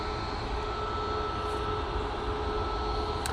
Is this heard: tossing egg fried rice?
no